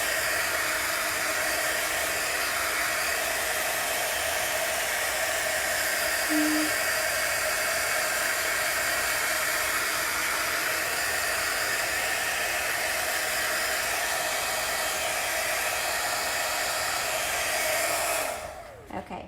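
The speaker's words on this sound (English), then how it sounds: "this is a heat gun" A heat gun blows hot air over chalk paste in a steady, loud, continuous roar that holds for about eighteen seconds before switching off at the end, with no talking.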